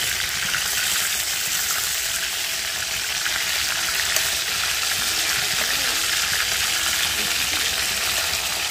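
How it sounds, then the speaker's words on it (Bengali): Fish frying in oil gives off a continuous, loud, even sizzle with faint stirring underneath, steady from start to finish. "আমি মাছটা হলো ভাজা করছি"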